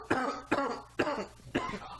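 Four sharp coughs in a row, evenly spaced about half a second apart, close and fairly loud, with no talking.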